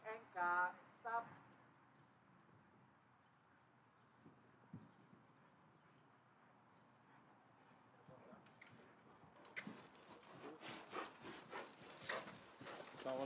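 Hooves of a horse walking in a dressage arena at an outdoor competition, soft and distant at first, then a run of louder, rhythmic clip-clop steps toward the end, with a brief burst of voices at the start.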